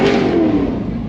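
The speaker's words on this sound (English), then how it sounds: "C6Z06 in front of me, revving up." A Corvette C6 Z06 close ahead revs its engine in a short loud burst, a gritty tone rising and then tapering off within about a second.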